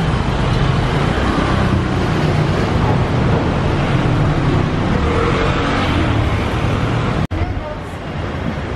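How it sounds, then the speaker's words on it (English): Busy street traffic in downtown Macau, with motorbikes and cars rumbling past in a constant, close, loud roar, a sharp knock near the end and voices mixed into the din. "There's all the motorbikes."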